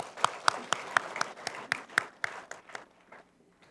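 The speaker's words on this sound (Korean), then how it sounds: "영광의 박수 올려드리겠습니다." Congregation clapping during a Sunday church service, a sparse run of about a dozen distinct claps in a slow even rhythm that thins out and fades toward the end.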